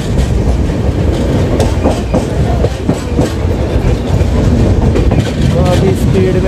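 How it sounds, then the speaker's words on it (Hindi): The Gondwana Express runs at speed on the rails, a loud continuous rumble with steady clickety-clack from the wheels and carriage rattle throughout, heard from inside the train. "काफी स्पीड में चल रही है हमारी ट्रेन।"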